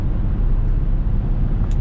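A 2019 Audi A6 Avant in dynamic mode accelerating at full throttle on the Autobahn, heard from inside as a steady, loud broadband engine and road roar with no talk.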